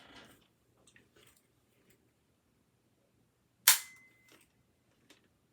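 A fake gun's trigger is pulled, giving one sharp, loud snap followed by a brief ringing, ricochet-like tail, preceded and followed by faint clicks and handling noises in a quiet room.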